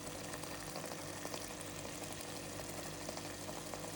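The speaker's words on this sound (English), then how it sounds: "Sarso da saag bubbling away on a cold winter morning" Sarson da saag simmers in a pot, giving a dense, steady bubbling and popping blur that holds at an even level from start to finish with no voices over it.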